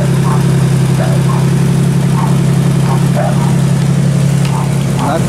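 A motorcycle motor idles steadily and loudly up close, a constant low, thrumming drone with light rhythmic ticking over it, and a voice talks briefly over the engine.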